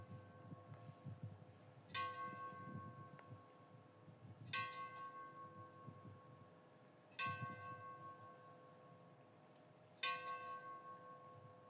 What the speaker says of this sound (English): We will now go with the traditional 5 rounds of bell.